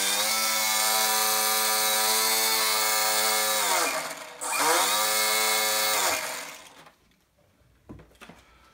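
A small electric motor on a Guillows Zero RC plane conversion runs at throttle with a loud, steady high whine, dips briefly, surges again, then cuts off and falls quiet.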